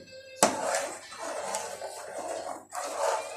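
Ube halaya being stirred in a pan, a metal spoon or spatula clanking sharply once against the pan, then scraping and dragging through the thick purple yam mixture with a rough, continuous rasp, close and without talk.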